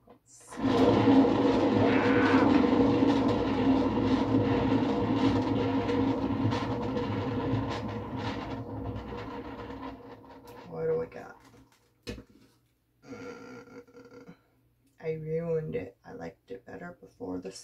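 A poured-paint 8-inch hexagon tile being spun for a bloom-style pour makes a loud, steady whirring rumble for about ten seconds, then stops and gives way to shorter bursts of sound with brief silences between them.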